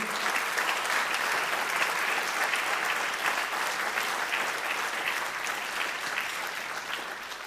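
Sustained audience applause at a municipal holiday ceremony in Ljutomer following a musical performance, a steady dense wash of clapping that holds level throughout and fades slightly toward the end.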